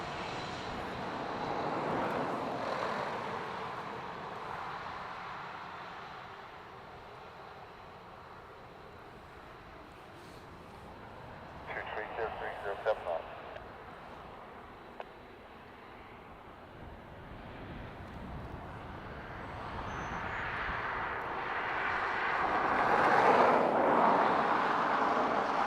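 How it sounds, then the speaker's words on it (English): A Lufthansa Airbus A340 passes overhead near Dublin Airport, a broad engine roar that fades down in the middle and then swells louder toward the end, heard from outdoors at moderate distance. "Lufty A340 overhead."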